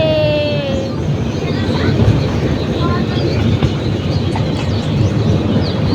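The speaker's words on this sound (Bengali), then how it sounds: "টয় ট্রেনের ভিতরে বসে পার্ক দেখা খুব ভালো লাগছে" Rumbling of a small toy train carrying riders around Surya Sen Park, rolling along with rhythmic clatter, a high whistle-like tone early on, and voices faintly mixed in.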